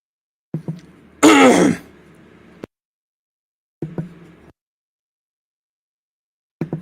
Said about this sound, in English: I might clear my throat